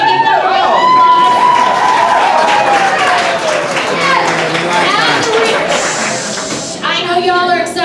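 A crowd at an evening awards event applauds the press, a dense wash of clapping and cheering that fills the room, with voices and chatter mixed in throughout.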